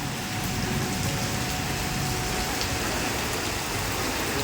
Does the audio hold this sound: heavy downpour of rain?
yes